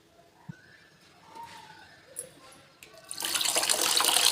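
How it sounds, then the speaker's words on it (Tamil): Water poured from a vessel into a pot of horse gram rasam, quiet small clinks and drips building into a loud, steady rush of pouring near the end. "இப்போ இந்த ரசத்துக்கு தேவையான தண்ணி சேர்த்திக்கலாங்க."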